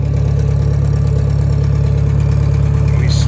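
A Farmall 404 tractor engine runs at a steady idle, close and loud, with an even low rumble throughout and no talk.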